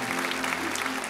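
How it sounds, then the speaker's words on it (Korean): A church congregation claps together in praise: a dense, steady wash of applause from many hands, filling the room without pause over its short length. "우리 주님께 감사와 영광의 박수 한번"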